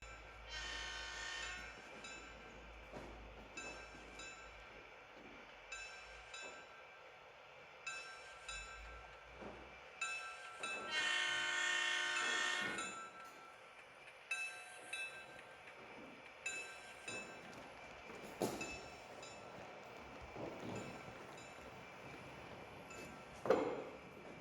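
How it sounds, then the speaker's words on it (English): The Zephyr passenger train near Chicagoland races past at speed, its horn sounding in several loud blasts over the rolling clatter of the cars. The horn fades and returns while the wheel noise carries on beneath it. "Here's one last shot of the Zephyr as it highballs past our camera"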